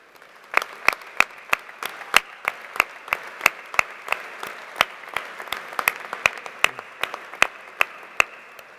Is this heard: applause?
yes